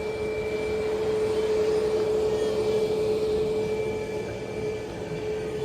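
Caribbean Airlines Boeing 737 MAX 8 jet airliner passing near an airport, a steady broadband roar with a constant whine, loud and sustained throughout with no talking.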